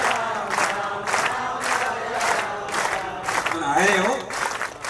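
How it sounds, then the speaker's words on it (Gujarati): An audience at a satsang claps in unison to a steady devotional rhythm, each beat landing together in a regular pulse, with a voice chanting and calling out over the clapping toward the end. "તાળી પાડો."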